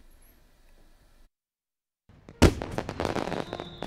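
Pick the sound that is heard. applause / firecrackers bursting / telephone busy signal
firecrackers bursting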